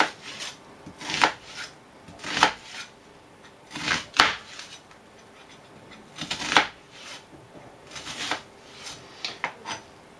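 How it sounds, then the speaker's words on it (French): A kitchen knife chops and slices onions on a cutting board, with sharp, regular strokes in loose bursts about every second, close and fairly quiet, no talking. "on va couper et émincer les oignons"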